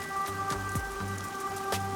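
Rain falls in the video game Rain Code as a steady, soft patter, with sustained musical tones running underneath throughout.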